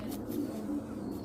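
Pigeon cooing from a pigeon kept in a Bangladeshi fancy pigeon collection, a low steady murmuring coo held close by over a brief moment with no talk.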